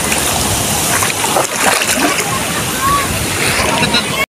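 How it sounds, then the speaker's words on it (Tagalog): Close, loud splashing of waves hitting and sloshing, a rough churning wash that cuts off abruptly at the end. "Ang ganda ng impact ng alon."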